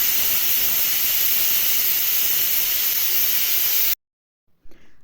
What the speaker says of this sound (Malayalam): കുക്കറിൽ അടുപ്പത്ത് വെച്ചുകൊണ്ട് അടുപ്പത്തൊരു വീസിലടിച്ചിട്ട് പിന്നെ അത് തിരിച്ച് കുറച്ച് വെച്ചിരിക്കുകയാണ്